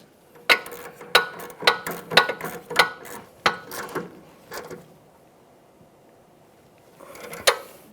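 Wrench ratcheting on a 15mm sway bar link mounting nut on a 2012-2015 Honda Civic, a rapid run of sharp close clicks in bursts, a quiet pause, then a few more clicks.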